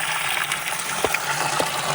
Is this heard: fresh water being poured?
yes